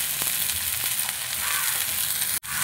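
Cumin powder, coriander powder and green chili sautéing in a pan for a mixed vegetable dish, giving a steady close sizzle with a few faint stirring scrapes throughout and a brief dropout near the end.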